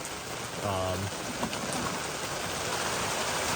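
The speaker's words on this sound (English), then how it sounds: "It is really pouring now." Heavy rain pouring down steadily, a dense continuous hiss of drops drumming on a surface close by, with a brief low hum near the start and no clear speech.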